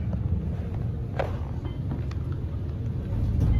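Steady low mechanical hum and rumble of an Otis elevator in motion in an office building in White Plains, New York, constant and close, with faint clicks and no talking.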